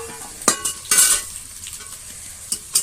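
Potatoes sauté in a pan with a steady oily sizzle, broken by several sharp scraping stirs of a spatula, close and fairly loud, with no voices.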